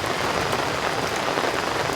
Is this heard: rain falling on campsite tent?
yes